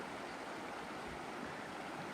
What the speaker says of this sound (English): a river